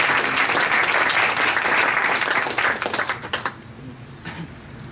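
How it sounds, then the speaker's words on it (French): Enthusiastic applause from a crowd at a fintech startup meetup fills the room, then thins out into a few scattered claps before fading. "On l'applaudit aussi."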